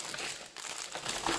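Super thick packing paper crumples and crinkles loudly and continuously, close up, with no talking over it.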